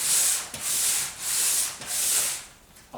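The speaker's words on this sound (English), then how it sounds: "I sanded it all till it was not nice and smooth" Guitar fretboard sanded to a 14-inch radius on a wobbly workbench, close and loud, with steady abrasive back-and-forth strokes in long rhythmic passes, about three sweeps with short breaks between them.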